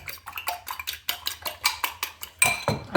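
Egg yolk whisked in a bowl with a utensil, giving a quick run of rhythmic clinking taps against the bowl, close and fairly steady, with a brief louder scrape near the end.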